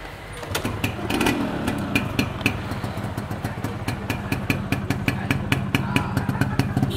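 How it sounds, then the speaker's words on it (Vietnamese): A Yamaha Yaz 125 motorcycle engine fires up and settles into a steady, rhythmic idle with sharp periodic ticks, close and fairly loud throughout. "cái này để mình nổ máy lên"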